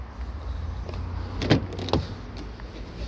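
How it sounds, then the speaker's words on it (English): Electric windows on a 2015 Ford Mondeo Titanium, a muffled motor whir inside the car with a couple of distinct thumps as the glass stops, no voices. "Front and rear electric windows."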